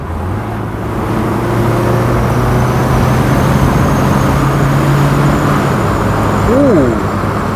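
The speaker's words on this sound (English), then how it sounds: "so we'll try a kick down" A Peugeot 504TI automatic accelerating hard on kick-down at national speed limit, a steady loud engine drone with rising and falling tones, heard from inside the car under continuous road and wind noise, with a brief voice near the end.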